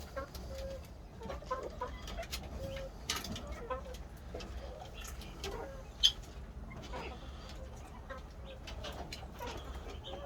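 A busy yard of chickens, including a rooster and Silver Brakel hens, alongside turkeys, clucks continuously, with scattered bird chirps and one sharper squawk partway through. A faint murmur of talk sits underneath.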